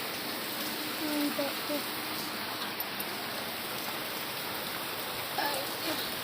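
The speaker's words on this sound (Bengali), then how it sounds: "বাইরে দেখো তো বৃষ্টি পড়ছে" Rain falls steadily outside in a soft, even hiss of drops on surfaces, fairly faint and unbroken, with a voice faintly present now and then.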